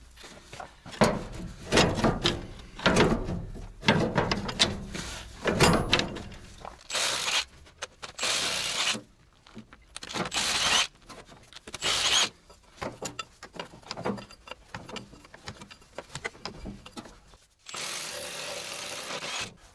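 Metal clanks and ratcheting clicks from hydraulic hose fittings being unscrewed on a T-74 crawler tractor, in irregular bursts of varying loudness with brief gaps and no talking.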